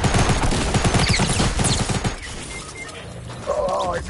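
Rapid submachine gun fire in a battle royale shooter, a dense rattling burst for about two seconds followed by quieter clatter and mechanical clicks, loud and close with voices faintly mixed in.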